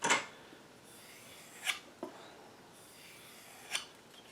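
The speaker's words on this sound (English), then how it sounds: "I give it a couple strokes on each side" A knife blade is drawn across a Lansky sharpening system hone in a few separate strokes, each a short rasping scrape, fairly close and isolated against quiet background hiss.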